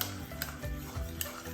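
Homemade slime mixed from contact solution, eye drops and food coloring, heard as close, rhythmic wet stirring and squelching, with a few sharp clicks of a utensil against the container.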